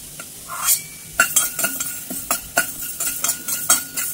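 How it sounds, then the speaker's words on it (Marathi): Fenugreek seeds dry-roasting in a pan for mango pickle, with close, crisp scraping and clinking stirs in an irregular rhythm over a light sizzle. "आपण मेथ्या भाजून घेणार आहोत"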